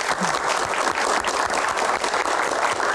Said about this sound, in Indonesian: Tepuk tangan, terima kasih